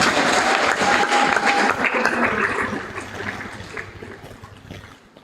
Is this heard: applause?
yes